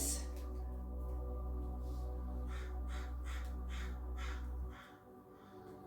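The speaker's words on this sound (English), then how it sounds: "listen to the crow." A crow caws repeatedly outdoors, a series of harsh calls spaced through the clip over a steady low hum, sounding moderately distant and with no speech over it.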